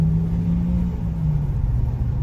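Ford Ranger Raptor pickup engine holding a loud, steady rumbling drone while its wheels spin, close up and without letting up.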